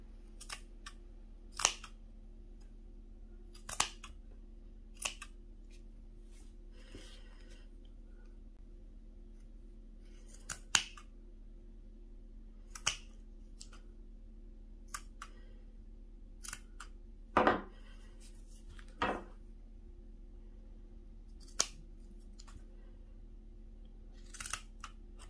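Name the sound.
scissors snipping yarn tails of knitted baby hat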